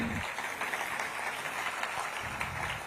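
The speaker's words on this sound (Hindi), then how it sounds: "बहुत बहुत तालियां बजें" Audience clapping at a formal honouring ceremony for a singer and composer, a fairly quiet, continuous patter heard at a distance, with faint voices murmuring beneath it.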